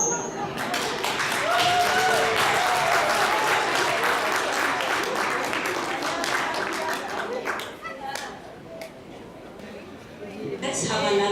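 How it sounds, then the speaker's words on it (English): An audience at a literary celebration event bursts into sustained applause, with dense clapping that swells, holds for several seconds and then fades before a second short burst, while a voice speaks at points. "Let's have another round of applause for people that we go now."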